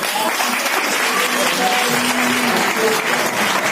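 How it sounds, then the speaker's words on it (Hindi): Audience applause at a women's empowerment program event in Hapur, a dense, steady wash of many hands clapping throughout, loud and close, with faint voices mixed underneath. "इन्हीं के लिए तालियां"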